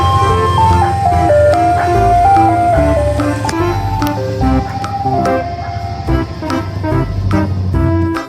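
A toy ice cream truck plays its jingle, a bright tinkling melody of repeated electronic notes that runs steadily and loudly throughout.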